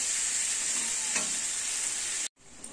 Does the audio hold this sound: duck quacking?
no